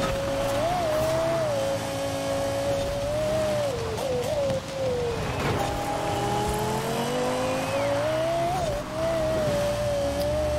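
Lexus RC F in Forza Horizon 4 driving on a rain-soaked road, its engine droning loud and steady with rising and falling revs, faint tire squeal and the hiss of rain underneath, and no talk.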